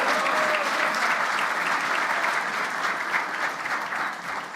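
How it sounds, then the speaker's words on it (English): Warm, dense audience applause at a speech by the Ontario NDP leader, continuous for several seconds and tapering slightly toward the end, with no one speaking over it. "so the applause is actually nice"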